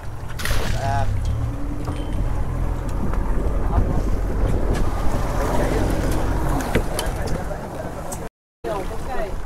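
A low boat engine drone rumbles steadily at sea under gusting wind and water noise, with people talking over it.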